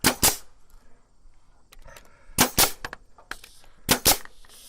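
A nail gun fires into a rim board during flat roof framing, three sharp loud cracks spaced about two seconds apart, with faint handling noises in between.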